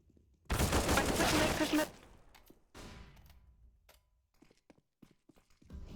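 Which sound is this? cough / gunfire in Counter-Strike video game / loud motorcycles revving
gunfire in Counter-Strike video game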